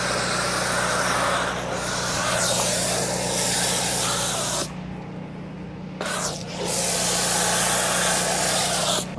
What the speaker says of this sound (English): apply the rest of our foam cannon to the vehicle surface